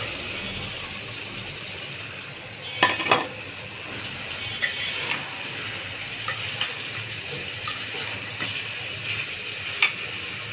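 Bottle gourd peels stir-frying in a pan over raised heat for a peel-and-carrot fry, a steady sizzle with a few louder scraping clatters of a spatula early on and lighter scrapes throughout, no talking.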